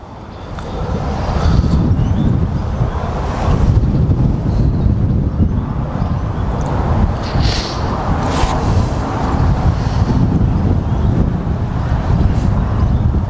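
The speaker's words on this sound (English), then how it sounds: "Wind started to really pick up now." Strong wind buffeting a boat on a fishery, a loud, continuous low roar and rumble with gusty swells lasting throughout, close to the microphone with faint splashing and movement underneath.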